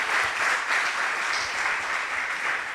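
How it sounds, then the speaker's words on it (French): An audience at a round-table discussion on the mental side of the coach–athlete relationship claps for the speakers, a steady, dense wash of applause from a roomful of people, loud and sustained throughout. "Alors, on va encore applaudir l'ensemble des personnes qui sont intervenues."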